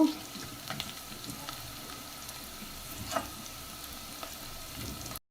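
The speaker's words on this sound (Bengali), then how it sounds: "পেঁয়াজ রসুনটা মিডিয়াম গোল্ডেন কালার হয়েছে আর একটু ভাজবো" Onion and garlic frying in oil for a Bengali achari dal, a low steady sizzle with scattered faint crackles and a brief utensil scrape near the middle, quiet and continuous throughout.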